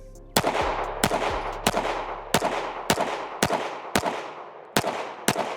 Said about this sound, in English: we're gonna continue to shoot it here